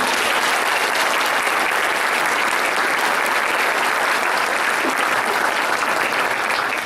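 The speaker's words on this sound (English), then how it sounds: "Give them a round of applause, please." A full audience applauds a 6th grade middle school orchestra at a Christmas concert, steady dense clapping throughout at close range and strong volume, with no talk over it.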